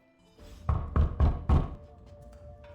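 A door in the Midnight Suns video game takes four heavy, hollow knocks at an even pace, close and loud, with a quiet tonal hum lingering beneath and behind them.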